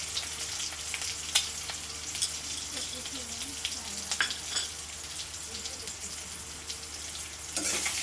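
Chickpeas frying in a pan with salt, turmeric, chili and coriander powder: a steady close sizzle with occasional stirring clicks and brief louder bursts, with a faint low hum beneath.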